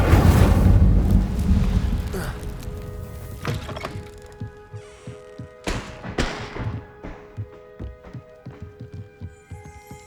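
An Incendio fire spell cast in the video game Hogwarts Legacy opens with a loud, broad whooshing burst that fades into scattered crackles, thuds and soft knocks over a low steady hum.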